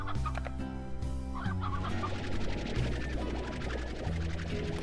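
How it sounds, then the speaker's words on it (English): Hens in the video game Slime Rancher clucking repeatedly in short choppy bursts over a steady background music bed, with no talking. "I cannot look at those hens without seeing Camilla, Gonzo the Great's girlfriend"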